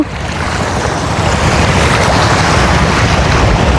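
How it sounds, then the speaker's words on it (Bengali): Sea waves wash and surge steadily at night off Purba Dhalchar near the Sundarbans, a continuous broad rushing with wind noise buffeting the microphone and no voices. "সমুদ্রের মৃদু ঢেউ"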